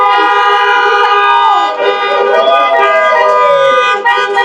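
A car horn blares in a long, loud sustained tone with shifting pitch, heard up close outdoors where vehicles are picked up.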